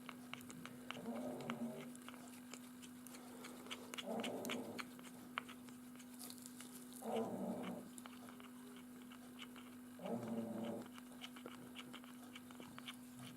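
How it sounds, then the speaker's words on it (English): Maisie the dog snores in soft, low breaths, four evenly spaced snuffling snores roughly three seconds apart, faint and close over a steady low hum. "That's Maisie snoring."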